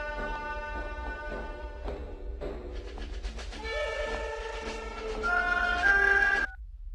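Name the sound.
telephone ringing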